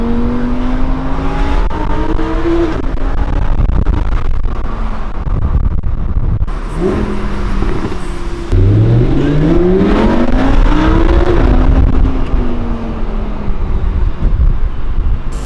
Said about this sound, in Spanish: sin música, simplemente el sonido del coche